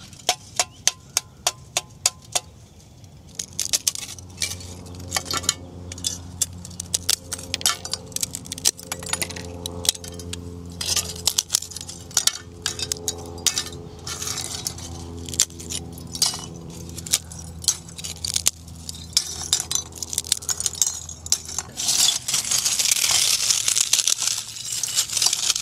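Melted sugar that overflowed the pan and hardened into glassy pieces on the bottom of a retort clinks and jangles like metal. The sharp rattles and crinkles are handled close, continuing at length and getting harsher toward the end, with no talking.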